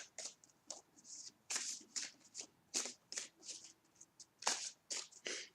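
Tarot cards being shuffled close by, a quick run of crisp riffling bursts in an uneven rhythm, quiet and without speech.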